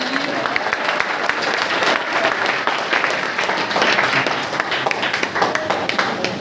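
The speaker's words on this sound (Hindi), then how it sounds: "तो एक बार जोरदार ताली हो जाए हमारे लिए।" An audience at a youth academy's grand launch event breaks into sustained, dense applause that keeps an even, busy level of clapping throughout, with faint crowd murmur underneath.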